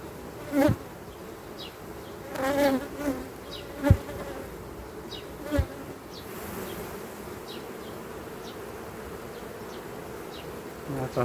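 Honey bees swarm around an open beehive being treated for parasites, their dense, steady buzzing filling the air nearby, broken by a few sharp knocks and clicks from handling the hive and no voices.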